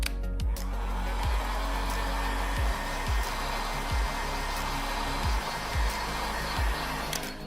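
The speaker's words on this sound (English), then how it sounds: "I blow heat directly right onto the cables" Hot-air blower aimed at the cables inside an opened iPhone 11 to soften adhesive during a screen replacement, a loud constant whooshing drone with a few soft low thumps as the tool moves.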